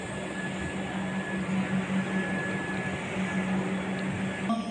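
The Chambal train stands at Deen Dayal Upadhyaya (D.D.U.) station, giving off a loud, steady close-up rumble with a sustained droning hum and no one speaking.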